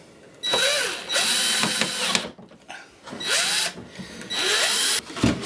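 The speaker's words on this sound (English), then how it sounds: "and then just put the screws in." Power drill driving screws into a wooden camper bench, several loud whirring bursts close by, each winding up and stopping, with short pauses between runs.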